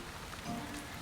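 Rain falling steadily, a dense even hiss of drops on surfaces, brief and close with no voices.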